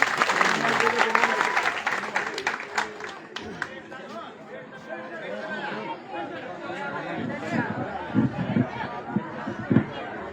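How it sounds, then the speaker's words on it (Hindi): Crowd applause at a political gathering welcoming a guest, a burst of clapping early on that gives way to crowd chatter and voices murmuring for the rest. "जोरदार तालियों से स्वागत करें।"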